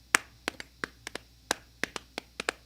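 Hands clapping a 5:4 rhythm, about a dozen sharp, close claps in an uneven, lopsided pattern of doubled and single hits over a quiet background.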